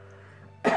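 A single sudden cough bursts out close by after a near-silent moment, sharp and loud at the very end.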